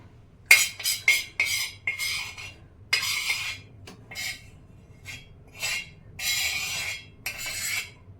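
A metal spoon scrapes and stirs dry whole spices for Indian tea masala on a hot iron tawa, giving repeated rasping strokes with short pauses between them, close and fairly loud.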